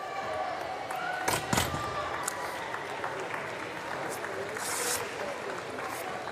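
Muted applause from the crowd after a good para powerlifting lift in a large arena, scattered claps with a few sharp louder bursts, fairly faint and thin rather than a full ovation.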